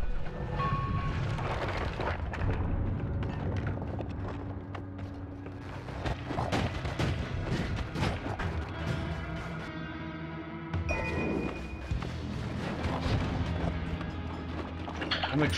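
Dense, continuous bursts of booming explosions and gunfire-like blasts from the video game Noita, loud and layered throughout with a brief dip near the end, no voices.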